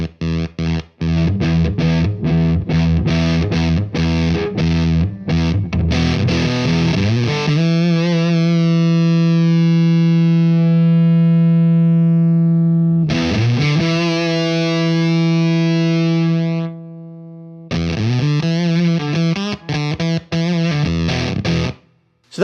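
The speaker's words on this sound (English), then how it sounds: "limiting the voltage going to the pedal, kind of mimicking that dying battery sound" A guitar runs through a fuzz pedal with a sag control that starves its voltage like a dying battery. Choppy strummed bursts give way to long sustained fuzzy chords that sputter and decay, then the strumming resumes.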